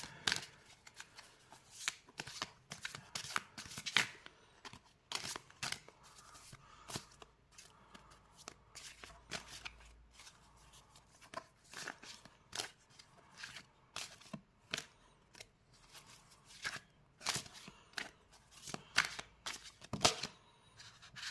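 Tarot cards being shuffled by hand, a steady run of soft, close riffling snaps and papery flicks repeating irregularly throughout in a quiet room.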